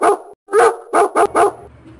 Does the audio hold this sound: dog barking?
yes